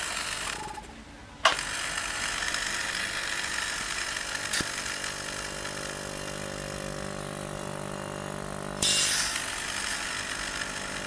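A Lovelock refrigeration condensing unit compressor runs steadily with a constant mechanical hum and buzz, close and fairly loud, with a couple of brief clicks.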